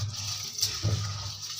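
Water splashes and pours briefly into a vessel of ration rice being washed for idli and dosa batter, a soft, close sloshing with no talk.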